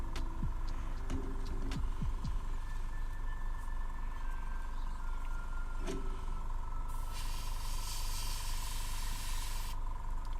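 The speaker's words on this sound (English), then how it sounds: "I need to stop the airbrush from painting the rest of his body" An airbrush sprays paint onto a tabletop wargaming miniature, its fine steady hiss swelling in one sustained burst late on over a constant background hum.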